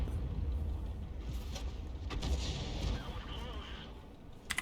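An M40/M43 self-propelled artillery gun fires in World of Tanks, a muffled boom over a steady low engine rumble, while a player talks.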